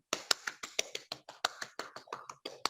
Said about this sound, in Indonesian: Kasih tepuk tangan dulu buat Obet